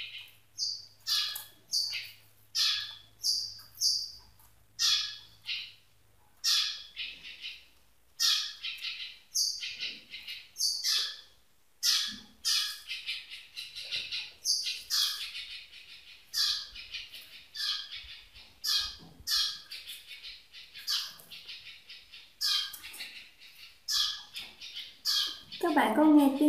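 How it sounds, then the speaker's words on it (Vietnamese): Birds nesting inside a household ventilation fan chirp and squawk in repeated sharp calls throughout, with a person speaking quietly toward the end. "Bạn có nghe tiếng chim hót líu lo không?"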